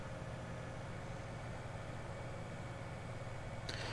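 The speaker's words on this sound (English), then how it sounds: "And we are away. Tractor does sound good." A tractor engine in the video game Farming Simulator 17 drones steadily at idle to low speed, a constant mid and low rumble with no talk over it.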